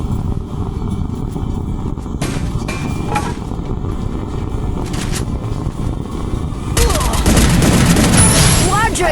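M10 gunfire in a shooter video game, with bursts of rapid shots over loud, dense game noise and a heavier sustained volley toward the end, while a voice talks throughout.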